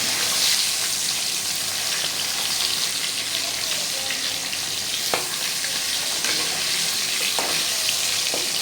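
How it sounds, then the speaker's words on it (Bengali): Hilsa fish tails fry in a pan with a loud, close, continuous sizzle, broken by a few sharp pops and crackles. "আমি ইলিশ মাছ ভাজা বসিয়েছি। দেখুন লেজগুলো ভাজা করছি।"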